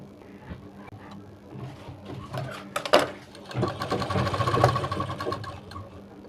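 A sewing machine stitches the V-shaped neckline of a blouse, running in short uneven bursts of fast needle clatter that build to a steadier whir, close by, with faint handling noises between.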